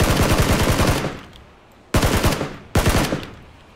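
Automatic gunfire in the video game PUBG, with a long rapid burst followed by two shorter bursts, loud and close, with no talking.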